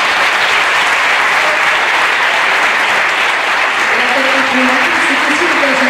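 Loud, steady applause from an audience at a year-end show, a dense continuous wash of clapping that fills the whole stretch, with some voices rising over it toward the end.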